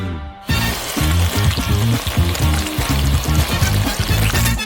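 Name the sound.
electric mixer mixing curd cheese and chocolate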